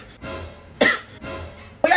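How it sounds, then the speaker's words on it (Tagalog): Two sharp coughs about a second apart, each a short harsh burst rising out of a quiet, murmuring room background. "Umuubo lang naman ako."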